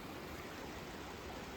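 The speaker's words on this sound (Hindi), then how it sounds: "और ये नया ही वाटरफॉल है, मतलब है कि जब बारिश ही होती है तभी आता है" A rain-fed waterfall pouring into a stream on a flood-damaged mountain trek track, a constant broad rushing of water, loud and steady with no variation.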